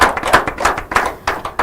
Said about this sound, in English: If you agree, a warm round of applause.